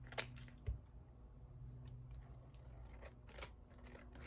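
Scissors snipping scrap paper: soft, sporadic snips and crisp paper sounds against a faint steady background hum, with a couple of sharper clicks early on.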